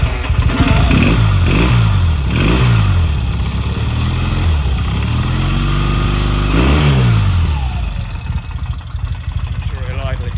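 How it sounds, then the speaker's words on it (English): A 1972 Laverda 750 SF1 Super Freni parallel-twin motorcycle, started cold, revs in several sharp blips before settling to a loud, close, slightly uneven idle, with a voice talking over it. "Of course it idles. And that is a Laverda SF1 Super Freni twin."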